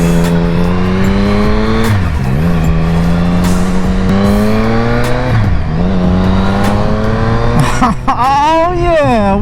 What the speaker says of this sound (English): we are on the Triumph 1050 Speed Triple